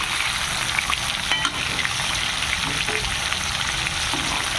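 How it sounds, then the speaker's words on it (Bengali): Potatoes frying in hot oil, prepared as a home meal for a Janmashtami Hari puja in a village house, give a steady, loud, dense sizzle with occasional stirring clinks throughout. "আর এদিকটাতে আলু ভাজছি। এই যে আলু ভাজা।"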